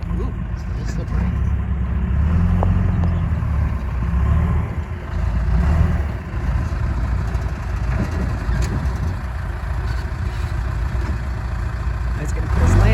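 A backhoe engine runs steadily at close range as a low, continuous rumble in slippery, icy conditions, with a voice talking over it now and then.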